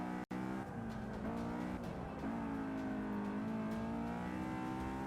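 A Volkswagen race car in the video game Forza 6 drones loudly, its engine rising and falling in pitch as it revs and shifts, steady and continuous.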